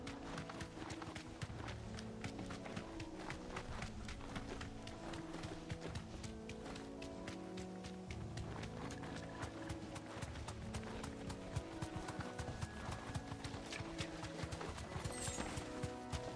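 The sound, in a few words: horse hooves galloping while riding in a video game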